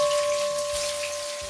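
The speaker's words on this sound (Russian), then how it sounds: "Первым делом обжариваю грибочки." Mushrooms fry in vegetable oil in a pan, giving a steady, close crackling sizzle with fine popping spatters throughout and no talk.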